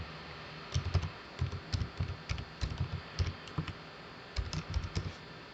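Fingers tap out a steady run of quick keystrokes on a computer keyboard while entering labels in Ansys Workbench, the clicks coming in close bursts with brief pauses between words.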